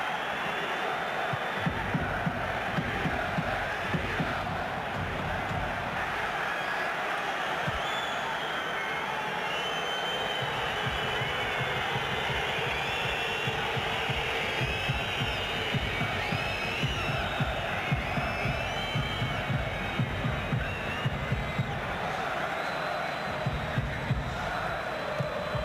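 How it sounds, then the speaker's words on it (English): A football stadium crowd roars steadily during the Arminia Bielefeld vs. Schalke 04 DFB-Pokal cup match, a broad, continuous wash of excited voices with occasional louder swells. "That's got the crowd excited again."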